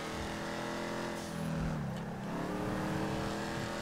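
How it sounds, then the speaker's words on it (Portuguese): A blower-equipped V8 Dodge Charger R/T in Grand Theft Auto V revs hard and accelerates, its steady engine roar climbing in pitch, dipping briefly as it shifts, then rising again, loud and close throughout. "vamos dar uma acelerada boa aqui"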